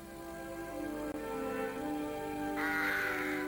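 A rook caws once near the end, a short harsh call rising over a quiet farmland background that stays calm and tonal for the first few seconds, with no talking.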